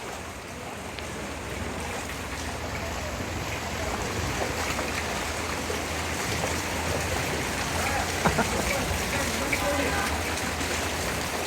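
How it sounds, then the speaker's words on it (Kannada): A steady, continuous rush of floodwater flowing along a road during rain in Sakleshpur fills the scene, constant and fairly loud throughout, with no break. "ರಸ್ತೆ ಹೊಳೆ ಹೊಳೆ ಥರ ರಸ್ತೆಯಲ್ಲಿ ನೀರು ಹರಿತಾ ಇದೆ"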